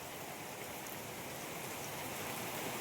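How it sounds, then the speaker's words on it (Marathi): Steady rain falls in a village during the monsoon, a dense continuous hiss of drops on surfaces with no voices, even and unbroken. "हे बघा किती पाऊस पडतो"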